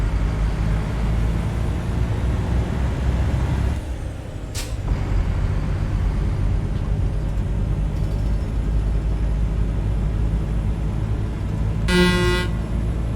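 An air horn on a truck in a truck-driving video game sounds one short, bright blast near the end, over a steady engine drone.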